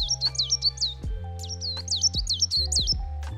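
A small tit sings close and clear in a garden: quick repeated high chirping phrases in a rapid rhythm, over a low steady hum.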